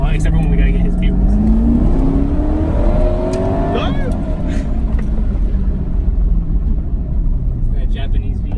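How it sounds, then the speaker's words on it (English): A Japanese V8 car engine revs up and pulls hard, pitch climbing steadily as it accelerates, loud and close, with a rumbling exhaust underneath. "That Japanese V8. Damn, she pulls."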